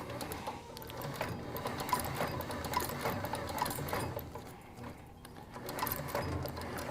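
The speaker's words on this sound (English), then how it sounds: "now I'm going to stitch this side of the tenon guard down" A sewing machine stitches down the side of a leather skate tendon guard, its fast mechanical chatter running steadily near the mic for about seven seconds, with a brief lull partway through.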